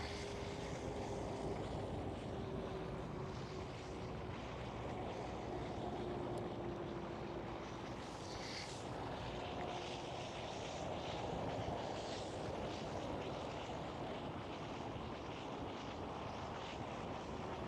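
A KLM airliner arriving from Luxembourg at Schiphol gives a faint, distant, steady engine drone under wind noise, sustained throughout.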